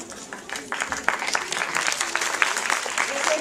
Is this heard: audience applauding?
yes